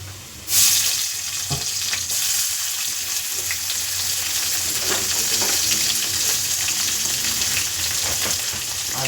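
Tomato and green chilies dropped into hot oil with well-browned onions: a sudden loud burst of sizzling after a brief quiet start, then a steady, close crackling fry that continues to the end.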